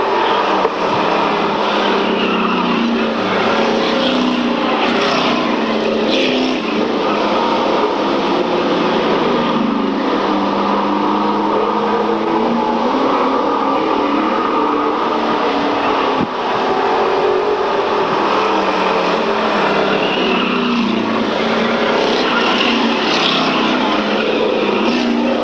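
Racing engines drone continuously and fairly loudly throughout a 1995 circuit race at RGS, a steady wash of several cars circling with no clear individual pass-bys.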